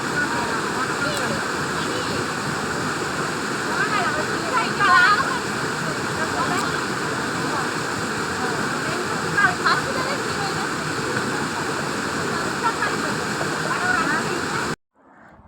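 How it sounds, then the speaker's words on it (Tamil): Water pouring steadily from a river near a rural Mariamman temple at Kodanthur, a constant broadband rush with splashy bursts, close and loud throughout, ending abruptly. "அந்த தண்ணி விழுகிற சவுண்டை"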